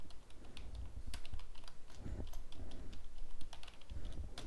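Computer keyboard keys tapped at a steady, brisk pace while CSS code is typed, with close crisp clicks and occasional heavier strokes over a low room hum, no voices.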